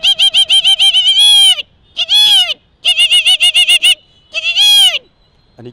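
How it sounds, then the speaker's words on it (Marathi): Red-wattled lapwing calling loudly and close: rapid bursts of sharp, repeated piercing notes in four separate bouts, with short quiet gaps between them. "त्यानंतर बघा टिटवीचा आवाज"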